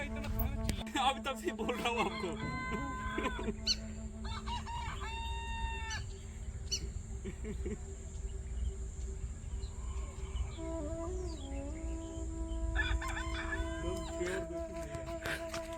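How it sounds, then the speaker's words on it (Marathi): Chickens and roosters in a house by the Narmada river cluck and crow repeatedly at evening, a rooster's crow standing out, with people talking faintly nearby. "कोंबड्या पण आहेत आतमध्ये, ओरडत आहेत त्या या टायमाला."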